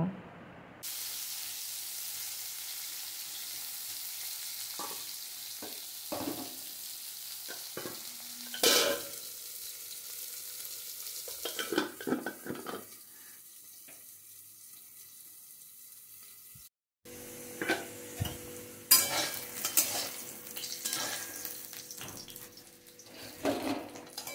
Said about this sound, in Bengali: এখন কেটে রাখা আলুগুলো আমি ওই তেলের মধ্যেই দিয়ে নিলাম। এখন আলুটা আমি ভালো করে ফ্রাই করে নেব।